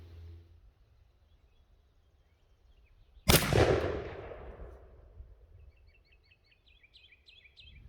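A single loud shotgun blast fired at a 40-yard target with a Herter's 2-3/4 inch 1.5 oz TSS #9 turkey load, cracking sharply and then rolling away in a long outdoor echo, with faint birdsong in the quiet before and after.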